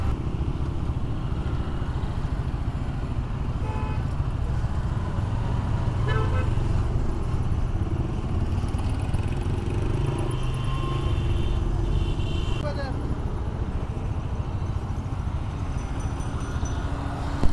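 A new motorcycle rides through city traffic at night: steady engine and road roar throughout, with scattered car horn toots from surrounding vehicles and no talking.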